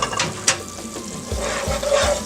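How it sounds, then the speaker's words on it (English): Minced garlic stirred into golden-browned tomato paste in a pot for Haitian-style spaghetti, giving soft scraping and stirring strokes over a low sizzle, with a few thumps near the end. "Stir it in, make sure it's nice and stirred in."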